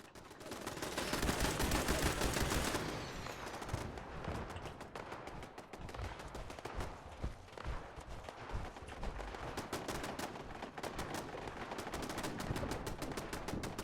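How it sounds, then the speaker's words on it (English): Automated turrets at the Kismet kill box in the video game Fallout 76 firing rapid bursts: a dense, continuous machine-gun rattle with heavy overlapping shots throughout, loud and sustained. "Now, you can hear the turrets up there firing off."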